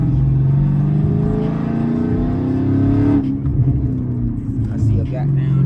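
Dodge Challenger SRT8 392 Scat Pack heard from inside on a ride-along drive, its low engine rumble steady and loud throughout, rising briefly near the middle, with a person talking over it.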